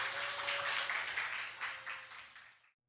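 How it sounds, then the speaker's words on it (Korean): Warm applause from a Korean church congregation at Busan Hana Church welcoming a guest pastor, a steady crowd clapping that gradually thins and fades out, ending in silence. "우리 부산 하나교회 뜨거운 박수로 환영하도록"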